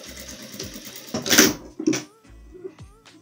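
A sewing machine backstitches a patchwork rug made from tricoline fabric strips in short, close bursts of mechanical whirring, separated by quieter handling noises and pauses.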